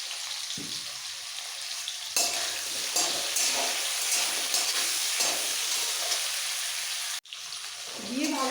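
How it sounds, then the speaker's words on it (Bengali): Potatoes for a dry okra and potato curry fry in a hot pan with salt and turmeric, hissing in a steady loud sizzle broken by sharp scraping stirs and a brief pause near the end. "ভেজে নেব যাতে ভাজতে ভাজতে আলু সেদ্ধ হয়ে যায়"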